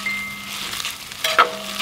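Sausage sizzles in a skillet for breakfast burritos, a close, steady frying hiss over about two seconds, ending with a brief sharp clink or scrape near the end.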